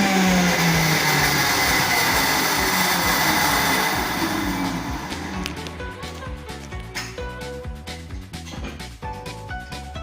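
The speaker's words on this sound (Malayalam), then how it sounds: "ഇനി കരിവേപ്പിൻ്റെ ഇലയും ഉപ്പും കൂടെ ചേർത്ത് ഒന്നും കൂടി ഒരൊറ്റ കറക്കിയെടുത്തു കഴിഞ്ഞാൽ നമ്മുടെ ചമ്മന്തി തയ്യാറായി കഴിഞ്ഞു" A mixer grinder whirs steadily, grinding chutney with curry leaves and salt, then cuts to short pulsing spins with uneven jolts as the motor starts and stops.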